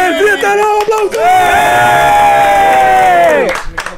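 Loud live crowd at a podcast taping of a staged rap battle, mostly shouting and cheering in sustained voiced roars with scattered whoops, dropping off sharply near the end.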